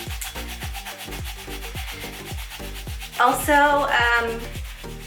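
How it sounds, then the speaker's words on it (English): Brass polish is buffed onto a thrift store brass piece with rapid, rhythmic rubbing strokes close up, followed by a brief burst of louder squeaky friction near the end. "I just kind of slather it on for a little bit, then I start buffing away"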